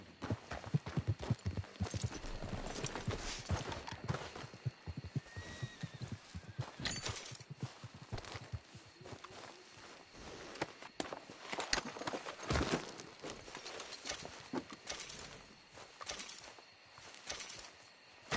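A horse walks with steady, quiet clip-clopping hooves on the ground, alone without talk and at a moderate distance.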